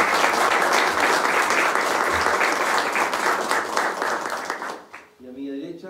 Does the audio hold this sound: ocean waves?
no